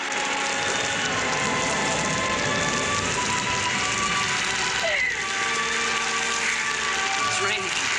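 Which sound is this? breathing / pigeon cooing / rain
rain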